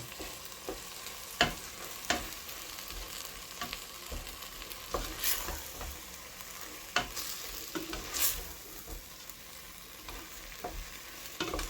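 Chicken and caramelizing onions fry on a plancha, a steady sizzle broken by occasional scrapes and knocks of a utensil stirring, close and continuous with no speech.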